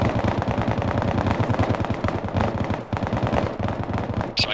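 Machine-gun fire in the Bellum video game sounds as one dense, continuous burst of rapid shots, loud and close, with no talking over it.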